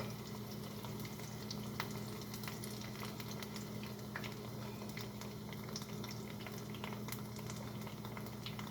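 Bell pepper pakoras frying in oil in a pan over low gas, a steady soft bubbling sizzle with faint crackles, continuous and fairly quiet throughout.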